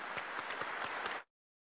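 A short burst of crowd applause, steady dense clapping that cuts off abruptly after about a second.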